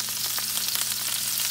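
Steak frying in ghee with thyme in a hot pan gives a steady, fairly loud sizzle with scattered crackles and pops, with no one talking over it.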